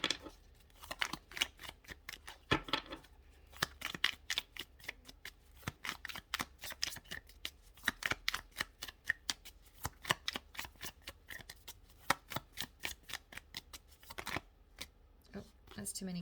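A deck of tarot cards is shuffled by hand in quick, rapid flurries of crisp riffling clicks, close up and fairly quiet, with a few short pauses between bursts.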